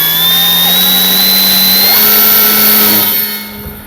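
An Avios Kobuz RC plane's electric motor and propeller running at about half throttle, a loud, close, steady whine with a slight pitch rise before it tails off at the end, no talking.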